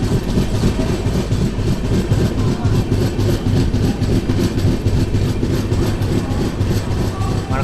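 Kacheguda–Mysuru SF Express LHB train halting at Mandya station, making a loud, continuous rumble with rhythmic clickety-clack wheel noise close by, a steady roar without pause.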